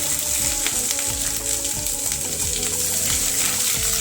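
Chilies and ginger fry with roasted dry spices in a pan for a pumpkin sabzi, a steady loud sizzle with crackling bubbles throughout, no talking.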